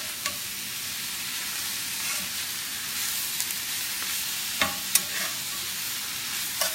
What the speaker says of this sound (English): while the zoodles are cooking on very high heat,